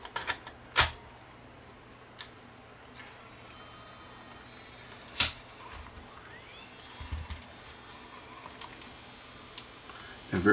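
A Sony DCR-TRV340 Digital8 camcorder, partly disassembled for repair, loads a tape: a few sharp mechanical clicks and clunks with faint whirring between them, close up in a quiet room, no talking.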